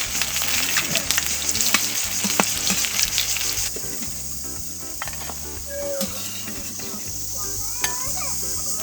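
Crispy corn pakora fritters frying in hot oil, with a loud, steady bubbling sizzle and occasional stirring clicks, a low hum underneath and a brief voice near the end.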